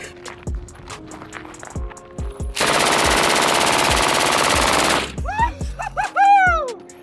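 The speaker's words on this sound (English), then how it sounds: "Do you want to shoot a machine gun?" A full-auto Kalashnikov fires at a Kalashnikov championship range: a sustained, dense burst of about two and a half seconds, loud and close, with single shots around it and someone shouting afterward.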